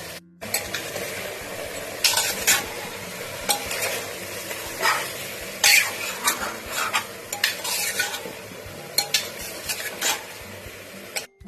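Chopped onions and tomato stir-fry for chicken soup under a constant sizzle, with frequent scraping and clinking of a spatula against the pot in uneven bursts.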